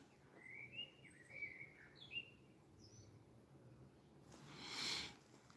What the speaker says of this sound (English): it's nice with the birds chirping